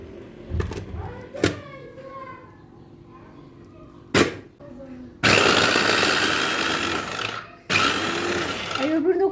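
An electric food grater grates food, its motor whirring loudly in two long bursts of a few seconds each after some brief clicks and a little talking, close by.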